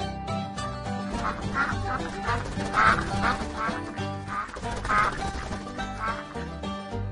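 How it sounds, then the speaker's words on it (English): Cartoon goose quacking in an animated children's story, repeated honks rising over a steady bed of background music at moderate level, with no talk. "Ah, a goose!"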